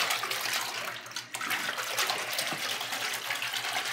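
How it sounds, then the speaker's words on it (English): Water gushes steadily from a tap into a bath to raise bubbles from a skull-shaped bath product, a continuous close broadband rush with a brief dip partway through and no voices. "So she's going to turn on the water and create her some bubbles"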